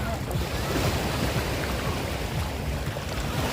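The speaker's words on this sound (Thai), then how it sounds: "คลื่นมันยุบลงไปมันก็จะดึงเขาลงไปด้วย" Ocean waves surging and breaking on a beach with deep blue water, a loud continuous wash of surf and rushing water close by, with wind buffeting the microphone throughout.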